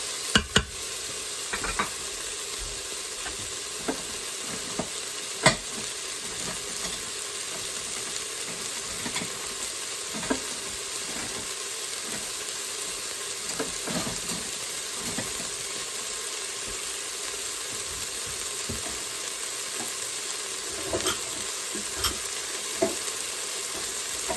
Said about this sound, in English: We're toasting these spices just a little bit, okay?